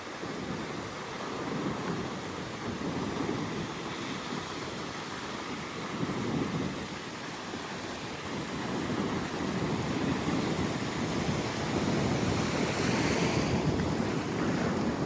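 Ocean waves wash continuously onto St. Augustine Beach, Florida, with wind buffeting the microphone throughout and no talking.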